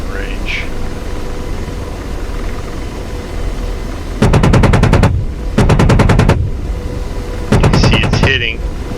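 AH-64D Apache helicopter cannon in the DCS combat flight simulator firing three rapid bursts of evenly spaced shots, loud over a steady rotor and engine drone, with a voice speaking in between bursts.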